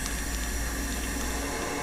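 Tap water runs steadily through a funnel into a container, a continuous, even rushing flow heard up close with no talk over it.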